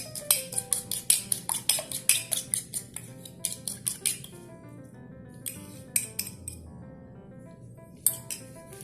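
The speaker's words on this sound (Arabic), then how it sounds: "هقلب الخليط كويس جدا" A utensil stirs a filling of onion and egg for Russian pies, making steady, crisp metallic clinks against a bowl, quick and rhythmic at first, then sparser taps with a few louder knocks.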